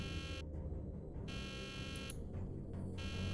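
An electronic buzzer alarm drones in the Nancy Drew: The Deadly Device game, a continuous tone that cuts out twice in brief pulses against a low background hum.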